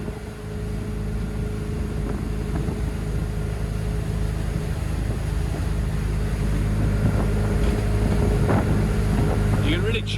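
A Bayliner 245 boat with a MerCruiser 5.7L TKS 250HP engine and Bravo III drive runs steadily underway, a continuous low motor drone mixed with wind buffeting the microphone and water rush for the whole stretch.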